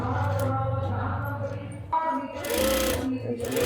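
A sewing machine stitching a zipper onto a salwar leg runs in a steady close whirring drone, stops briefly, then starts again.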